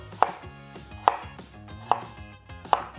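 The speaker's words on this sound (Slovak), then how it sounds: "nakrájam si takéto dva väčšie zemiaky na kocky" A knife chops two large potatoes into cubes on a cutting board, four sharp, evenly spaced knocks at a steady pace with no talking.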